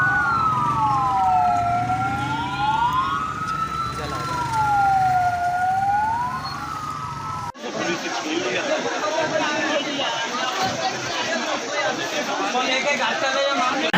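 Wailing emergency vehicle sirens, ambulances among them, rise and fall loudly after a bomb blast at an imambargah during a procession in Bahawalnagar, then give way to dense crowd noise and shouting.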